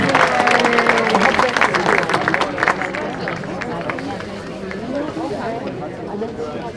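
Audience applause and crowd noise at a school Hall of Fame induction ceremony honoring the cheer and football teams, a dense sustained clatter of clapping with background chatter, steady then easing slightly.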